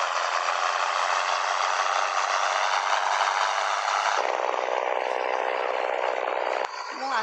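A truck engine idling in World Truck Driving Simulator, a steady, loud droning rumble that holds evenly throughout, shifting slightly in tone partway and briefly dipping near the end.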